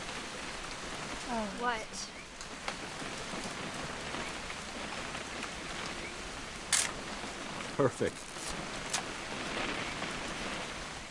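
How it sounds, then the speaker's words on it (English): Steady rain falls in the video game What Remains of Edith Finch, a constant wash throughout, with brief voices and a few sharp clicks partway through. "It's gonna rain the whole weekend, isn't it?"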